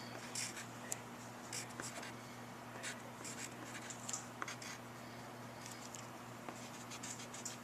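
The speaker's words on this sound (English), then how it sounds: "So you write that all down again." A pen or pencil writes down a math formula on paper, producing faint, close scratching strokes in short bursts against a low background hum.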